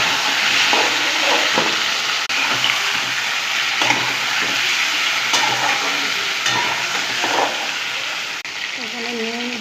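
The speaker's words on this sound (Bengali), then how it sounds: "পেঁয়াজটাকে দিয়ে একটু লাল লাল করে ভেজে নেব।" Onions sizzle and hiss in a frying pan, a constant frying noise broken by scraping stirs, with some voices in the background.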